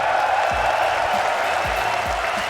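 A large arena crowd applauds at a Counter-Strike esports major in London, a dense, continuous wash of clapping and cheering with low thumps underneath.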